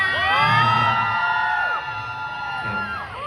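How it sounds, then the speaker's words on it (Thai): A loud crowd of fans at a Pet Expo booth event screams and cheers to welcome a celebrity guest, shrill high-pitched shrieks overlapping continuously, dipping briefly before swelling again near the end. "ขอเสียงกรี๊ดดังๆต้อนรับคุณคิสหน่อยได้ไหมคะ"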